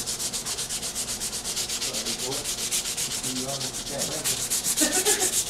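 Rhythmic back-and-forth sanding strokes rasp steadily against a primed dashboard panel, close and continuous, with muffled voices faintly underneath.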